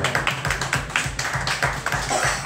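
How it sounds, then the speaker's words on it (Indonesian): An audience at a casual talk session in a coffee shop claps together in a steady, rhythmic burst of loud, close, evenly spaced hand claps. "Ayo tepuk tangan semua"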